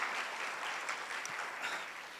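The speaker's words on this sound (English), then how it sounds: "Please can we give them a round of applause on a beautiful, beautiful wedding" Wedding guests in a civic hall applaud the couple with a steady, fairly soft wash of many hands clapping that holds evenly for a couple of seconds.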